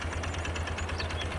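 A tractor engine in Farming Simulator 22 runs steadily at a distance, a low continuous rumble with faint mechanical texture and no talk over it.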